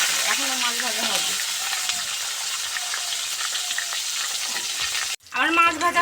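Fish fries crisp in a pan over low heat, with a continuous bright sizzle and crackle. Occasional stirring or turning sounds come through, and a voice speaks briefly at the end.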